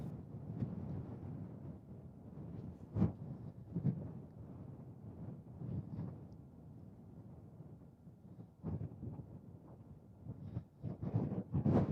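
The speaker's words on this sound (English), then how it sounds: "Why did it have to be so windy today?" Gusty wind near a volcanic eruption site in Iceland rumbles against the microphone, low and uneven, with occasional sharper buffeting bursts.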